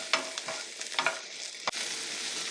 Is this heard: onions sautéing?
yes